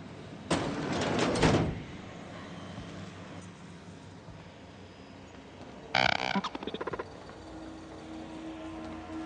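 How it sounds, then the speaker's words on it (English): A door in The Outer Worlds slides open with a loud mechanical whoosh and rattle near the start, followed later by a shorter clattering burst, set against a steady ambient game hum. "I'll get the door."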